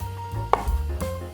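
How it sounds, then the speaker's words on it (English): Knife chopping garlic fairly finely on a board while preparing beef stroganoff, a few close, sharp cuts over a low background hum. "Chop it up fairly finely."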